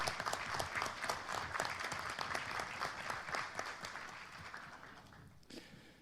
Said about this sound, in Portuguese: que eu pediria uma salva de palmas